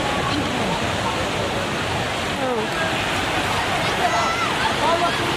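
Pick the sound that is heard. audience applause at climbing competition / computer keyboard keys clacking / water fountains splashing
water fountains splashing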